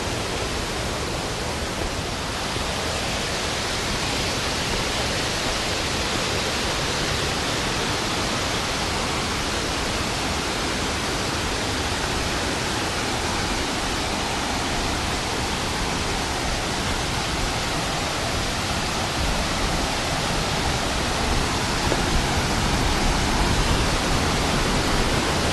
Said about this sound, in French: Là, la McLean Falls. La chute d'eau McLean.